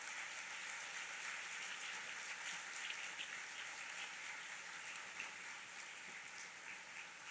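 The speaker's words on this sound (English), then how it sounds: "Let's give them a round of applause." Audience at a summer learning conference giving a sustained round of applause, a dense, even wash of many hands clapping heard from some distance at low level.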